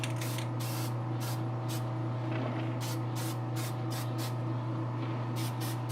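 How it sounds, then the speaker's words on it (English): Testors clear coat sprays onto primer in short, hissing aerosol bursts, several quick spurts separated by pauses, close and loud over a constant low electrical hum. "give this stuff a coat of this tester's, and it'll help just kind of cure it up a bit"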